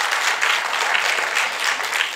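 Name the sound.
congregation applauding in church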